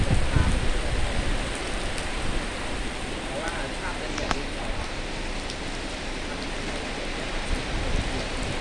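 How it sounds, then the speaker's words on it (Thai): Heavy storm rain pours down steadily at a petrol station in Tao Ngoi, a dense, constant hiss of drops hitting surfaces close by, loudest at the very start and then holding even throughout. "รอให้ฝนหยุดก่อน"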